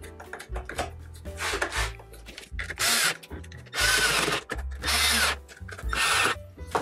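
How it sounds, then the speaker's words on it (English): A power drill or driver tightens screws on a Club Car DS golf cart headlight, running in several short close bursts between pauses with faint clicking. "let's go ahead and tighten down these screws somewhat."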